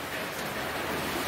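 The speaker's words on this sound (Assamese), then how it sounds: "ভাবিছিলোঁ বৰষুণটো এৰিব বুলি এতিয়ালৈকে এৰাই নাই" Steady rain falls outside, a dense, even hiss of drops with no break, fairly soft and continuous and with no voices.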